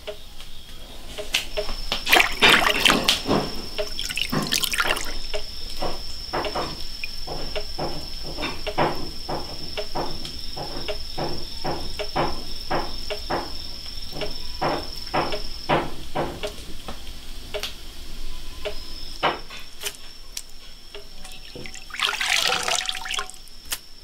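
A pig stomach is rinsed in a basin of river water, giving repeated splashing and sloshing bursts in an irregular rhythm, close and fairly loud, with no talking.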